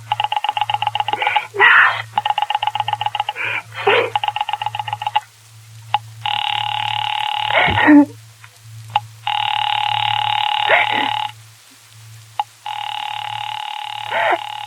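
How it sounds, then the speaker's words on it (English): Telephone line signals play in the 1945 radio drama 'Sorry, Wrong Number'. A rapid pulsing tone repeats in bursts, then three long steady tones follow, separated by clicks, over a constant low hum. "You may dial that number direct."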